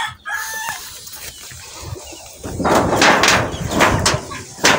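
A broodcock rooster crows among gamefowl chickens on a game farm, a loud close crow followed by clucking and rustling from the flock.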